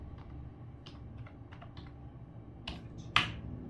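Keys tap on a computer keyboard while a PAN card number is typed in, a run of light irregular clicks ending in a sharper, louder keystroke, close and with no talking.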